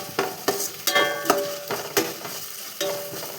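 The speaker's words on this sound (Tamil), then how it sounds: "அப்புறம் இஞ்சி பூண்டு விழுது போட்டுக்கலாம். நல்லா வதக்கி" Ginger garlic paste sautés in a pan for mill maker rice, with a spoon scraping and stirring in sharp repeated strokes over a steady low sizzle, close and alone.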